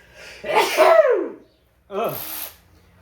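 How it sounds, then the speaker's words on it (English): A single loud, close sneeze, a sharp burst followed by a short breathy tail. "I'm gonna sneeze."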